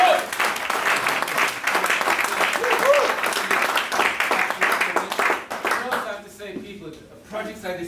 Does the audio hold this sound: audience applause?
yes